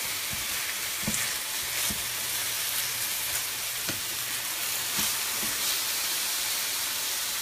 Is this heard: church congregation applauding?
no